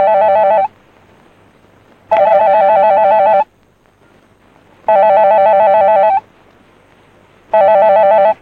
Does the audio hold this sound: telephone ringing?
yes